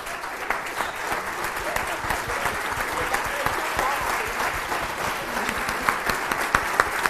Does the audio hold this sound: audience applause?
yes